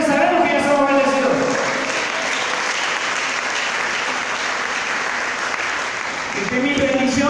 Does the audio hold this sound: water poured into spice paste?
no